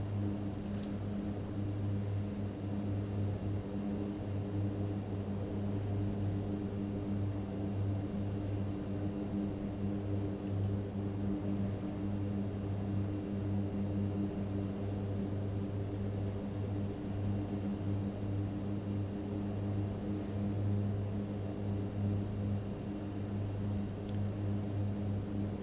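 A Mitsubishi MU-2 twin-turboprop aircraft drones steadily in flight, a constant engine hum heard from inside the aircraft with an even wash of background noise and no clear change in pitch.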